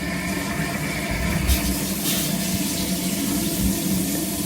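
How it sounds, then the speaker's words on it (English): Water runs steadily from a newly installed bathroom sink faucet, a continuous close hiss and splash holding at an even level throughout, with no talk over it. "So here's the faucet is working correctly."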